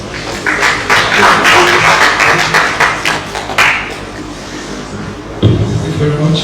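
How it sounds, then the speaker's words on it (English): Conference audience applauding, a dense burst of many hands clapping that lasts about three and a half seconds and then cuts off, leaving scattered room sounds and a few loud knocks. "A round of applause for him."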